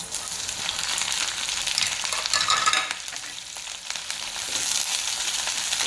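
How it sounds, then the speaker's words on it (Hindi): Green chillies frying in hot oil in a pan, a loud, steady, bright sizzle with stirring and scraping that swells mid-way, continuous and close with no talking. "और मिर्ची को हम दाग लगने तक भून लेते हैं।"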